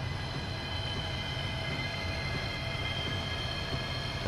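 Steady rumble of an OEBB 4023 train in Train Simulator 2016 with a constant hiss of brakes applying, continuous and fairly loud, with no talking.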